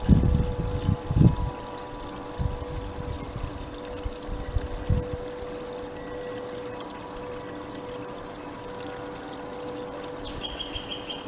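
Water runs and splashes steadily over a gold-panning table, with a few louder bursts of pouring early on before settling into a constant flowing hiss.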